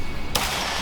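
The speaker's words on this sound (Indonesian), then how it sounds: "Wih, tembakan kedua." A single sharp gunshot cracks out suddenly at a shooting club, followed by a loud noisy tail that lingers to the end.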